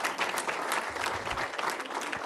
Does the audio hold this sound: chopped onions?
no